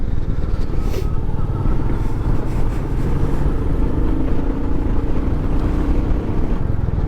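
A Royal Enfield Meteor 350 motorcycle rides in third gear with a steady, loud engine drone mixed with heavy wind rush across the microphone, continuous throughout.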